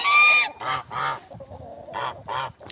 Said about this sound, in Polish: Gęsi.